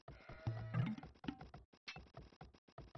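Sheep bleating in the Age of Empires real-time strategy game: one clear, wavering bleat near the start, followed by a string of soft game clicks and thuds with no voices.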